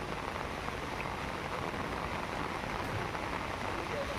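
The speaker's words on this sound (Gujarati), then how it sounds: "થાણેમાં ધોધમાર વરસાદ વરસતા પાણી થઈ ગયું છે" Heavy monsoon downpour in Mumbai and Thane, a constant dense hiss of rain pouring onto surfaces, steady and enveloping throughout.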